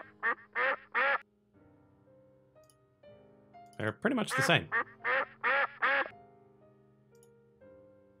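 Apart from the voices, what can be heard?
duck quack sound effect files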